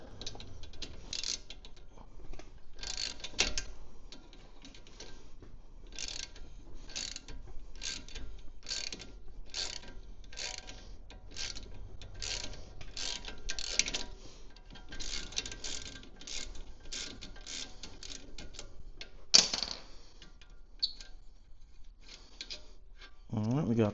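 A hand ratchet clicks in quick repeated bursts while loosening the brake caliper bolts on a Mini Cooper F56, close and steady with brief pauses, alongside someone talking.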